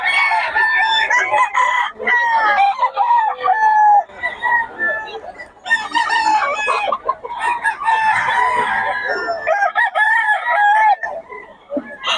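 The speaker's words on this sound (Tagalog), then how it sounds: "2525 lang mga manok ni Boss Randy ngayon." Several gamecocks crow repeatedly and loudly at a Bicaue farm, calls overlapping close by, with scattered clucking and occasional voices in the background.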